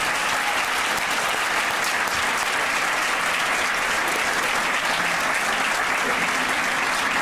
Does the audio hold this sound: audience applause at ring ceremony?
yes